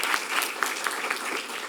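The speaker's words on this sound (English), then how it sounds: "We need to give him a round of applause." An audience at a hearing on the humanitarian aspects of the United States migratory crisis gives a round of applause for Representative Vargas, a brief, steady burst of many hands clapping.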